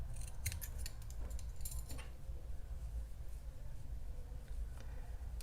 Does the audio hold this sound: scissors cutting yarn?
yes